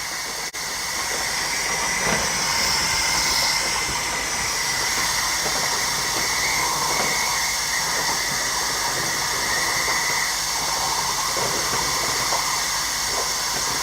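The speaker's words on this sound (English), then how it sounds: "I'm just gonna wait until this steam dissipates, and then I will open the canner." Steam vents from a pressure canner full of home-canned beans, a loud, continuous hiss that barely changes for nearly fourteen seconds, heard up close with no talk.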